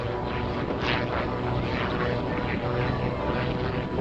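Firebirds X-treme Team aerobatic planes fly at the 2010 Wings Over Pittsburgh air show, a continuous broad roar of propeller engines climbing away at high speed, heard from a distance with a slight rise and fall.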